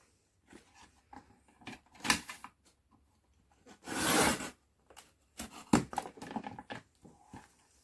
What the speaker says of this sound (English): So I am just going to trim that bottom bit a little bit.